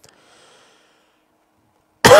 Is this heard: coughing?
yes